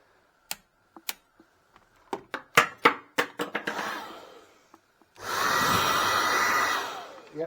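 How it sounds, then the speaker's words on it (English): A hairdryer in a Premier Inn hotel room at Canary Wharf, London, switches on after a series of sharp handling clicks and knocks. It then runs as a steady, loud blowing whoosh for about two seconds. "Oh, and you've got your hairdryer."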